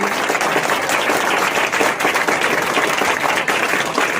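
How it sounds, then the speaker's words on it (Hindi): A crowd at a Hindi poetry gathering (kavi sammelan) applauds a teacher loudly and steadily, dense clapping filling the whole span without a break. "तो गुरु जी के लिए एक जोरदार तालियां बजाइए"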